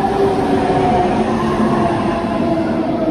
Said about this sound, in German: der Umsteigzug, der kommt hier an